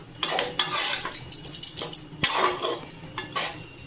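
A spoon stirs a chicken curry in a pot just after homemade garam masala goes in, with the gas off: close, irregular metallic scrapes and clinks against the pot.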